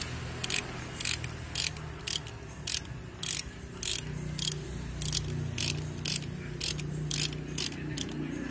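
A wrench ratcheting on bolts of a Colt diesel truck differential, steady rapid clicking bursts repeating about twice a second over a low background hum, close and clear.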